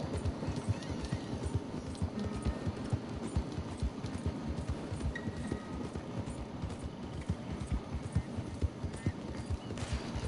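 War horse hooves while riding in Red Dead Redemption 2, a steady rhythmic clip-clop of galloping beats, moderately quiet and continuous with no talk.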